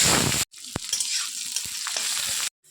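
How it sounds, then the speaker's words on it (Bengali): Onion and panch phoron frying in oil in a pan for a Bengali potato and bitter gourd chorchori, a steady close sizzle with a few sharp spatter pops, broken by two brief silent cuts. "পেঁয়াজগুলো হালকা ভাজা হয়ে গেছে"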